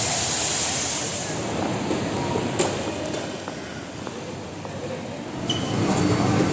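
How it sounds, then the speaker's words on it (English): Inside the Singapore airport SkyTrain heading to Terminal 2, a steady rolling rumble and hiss of the people-mover fills the cabin, with faint clicks and a brief tone partway through. "We are inside the SkyTrain, heading to Terminal 2."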